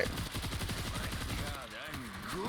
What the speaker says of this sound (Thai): ตั้งป้อมยิงอยู่